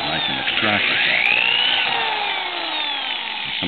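Power drill boring out a tuning pin bushing in a piano pinblock during restringing: a loud, close, whining grind with rising and falling pitch and a few short knocks, continuous throughout.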